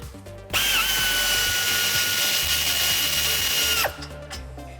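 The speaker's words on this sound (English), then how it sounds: "let me get my air ratchet in here" A pneumatic air ratchet runs loud and close for about three seconds in one continuous high whine, working on a 1994-2004 Ford Mustang during a suspension install.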